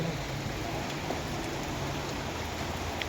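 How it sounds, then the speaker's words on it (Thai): Heavy rain falls steadily outdoors during flooding, a constant loud hiss of drops on surfaces with no break, close and filling the scene. "ฝนตก"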